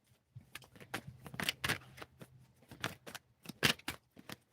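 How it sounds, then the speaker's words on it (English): Tarot cards are shuffled by hand at close range in quick, uneven riffles and slaps, in irregular bursts of papery flicking with brief pauses. "All right, I'm doing a live shuffle."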